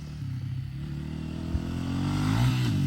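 A dirt bike runs fast across a bumpy field, its engine a steady buzzing drone at middle distance that rises slightly in pitch as it accelerates.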